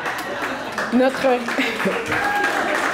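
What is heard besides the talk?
audience applauding the award recipient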